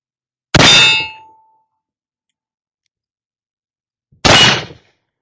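Dragoon black-powder revolver fired at a yellow steel target 18 yards away: two sharp metallic clangs several seconds apart, each ringing briefly before decaying, loud and clean with silence between and no voices.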